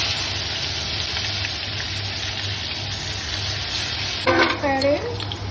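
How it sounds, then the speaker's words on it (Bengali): Dried red chillies and whole cumin tempering in hot mustard oil, a steady close hiss of frying throughout, with a brief voice near the end. "শুকনো লঙ্কা ফোড়ন দিলাম, একটু গোটা জিরে দিচ্ছি, আর মশলাটা দিয়ে দিচ্ছি।"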